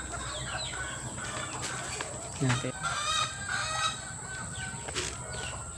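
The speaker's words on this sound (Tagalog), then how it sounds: "Tapos na tayo magpatuka ng manok." Chickens cluck and chatter nearby while pecking at feed, over steady background noise, with a brief word spoken partway through.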